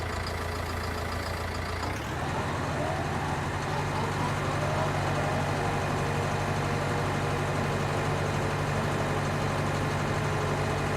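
Lindner Lintrac 90 tractor engine in Farming Simulator 19, pulling a pair of mowers: a steady, loud, low diesel drone that rises slightly after a brief shift near the start and continues unbroken.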